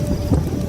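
A short, low rumble of thunder swells briefly over the hiss of heavy storm rain, a stormy-night effect for a Bengali village ghost story.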